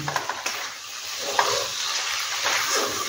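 Spices frying with softened onion in a pan for a gavarfali curry, with a steady moderate sizzle and occasional soft taps and scrapes of stirring, close, with no talking.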